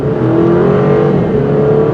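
An Alfa Romeo Giulia sports sedan's engine hums and rises in pitch as it accelerates on a twisty country road, a steady close exhaust drone with no voices.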